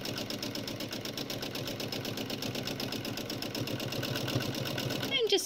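A sewing machine running continuously for free-motion applique stitching, a fast even mechanical rattle close by that holds steady throughout, with a brief faint sound near the end.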